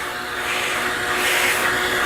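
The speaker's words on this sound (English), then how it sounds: "Sorry about the vacuum." A vacuum cleaner runs nearby in a guitar repair workshop, a steady loud airy whoosh with a slight swell in intensity, no voices over it.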